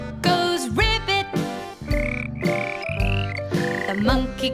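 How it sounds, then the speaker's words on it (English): A frog's ribbit croaks repeatedly in a toddlers' sing-along song, loud and rhythmic, set within upbeat music with sliding tones. "The frog goes ribbit."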